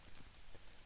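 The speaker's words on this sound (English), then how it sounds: "the rain has backed off a little bit" Steady rain patters on a foggy, soaked campsite, a faint, even hiss of drops without pauses or voices.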